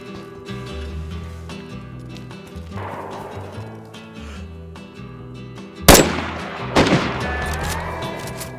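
Gunfire in the survival game DayZ, including an M1 Garand rifle: a few sharp, loud rifle cracks ring out late in the stretch over a busy background of game ambience and muffled noise.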